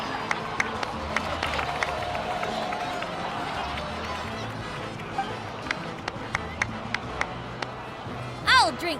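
Applause and cheering from a crowd in a Genshin Impact game cutscene: a steady wash of clapping with sharp scattered claps throughout, and a brief louder burst near the end.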